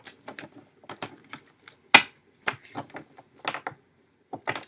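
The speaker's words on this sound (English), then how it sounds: "Y'all ain't even let me shuffle them cards." Tarot cards being handled and shuffled by hand, giving scattered crisp clicks and soft snaps at an uneven rhythm, close and fairly quiet, with no talk.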